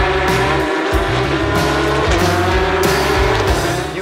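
A Porsche GT3 Cup race car at speed during a race at Trois-Rivières, its loud, sustained engine howl with rapid gear shifts and rev changes heard close up from inside the car.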